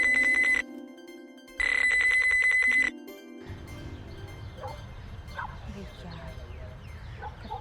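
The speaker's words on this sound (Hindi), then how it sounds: "अरे अब फोन तो उठा लो, कब से बज रहा है?" A phone rings in two loud electronic bursts with a short gap between, then stops, leaving background noise and faint voices.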